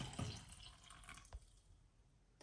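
Hot liquid poured from a pot onto cocoa powder in a cup while making sugar-free cocoa, a faint, close splashing trickle with a brief louder splash partway through.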